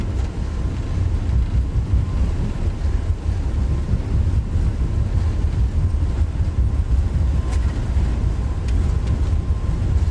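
A steady, loud deep rumble of an A320neo's wheels rolling down the runway during takeoff in the X-Plane 11 flight simulator, a continuous low roar with no pauses.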